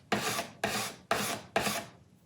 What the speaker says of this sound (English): the other tool that I like to use on this is the card scraper